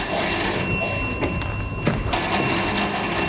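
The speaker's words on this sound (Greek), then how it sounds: "Γιατί δεν σηκώνετε το τηλέφωνο" A telephone rings with a steady electronic tone over a low room hiss, continuing throughout without any voices.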